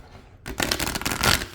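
A deck of cards riffled in a quick, close shuffle, a brief burst of rapid fluttering clicks after a moment of quiet.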